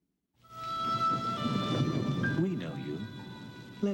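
Rain and rolling thunder play as an effect in a wine advert, a sustained rumbling storm with a soft music tone over it, and a voice rising briefly near the end.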